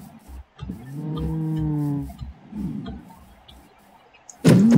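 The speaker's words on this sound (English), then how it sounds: "This cow is so annoying." A cow mooing in the Minecraft video game, a long drawn-out low moo up close, surrounded by soft game sounds and a sharp loud burst at the end.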